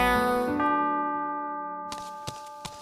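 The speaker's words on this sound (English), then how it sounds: "The zombie walked up the clock. The clock struck 12." A clock bell rings and slowly decays as the clock strikes twelve, followed by a few sharp metallic strikes near the end.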